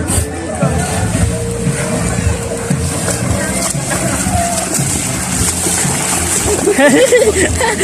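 Freestyle swimming at a spring resort pool, with steady loud splashing and sloshing water throughout, mixed with people talking and shouting nearby.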